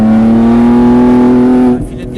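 A race car engine on the Mireval track sustains a loud, steady high-pitched whine that climbs slightly in pitch as it accelerates, then cuts off abruptly near the end, leaving a quieter rumble.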